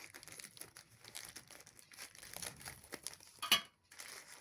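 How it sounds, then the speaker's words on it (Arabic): A plastic bag of cotton wool is handled close by, making soft continuous crinkling and rustling with one sharper crackle near the end, all faint. "هتجيبي كيس القطن كده"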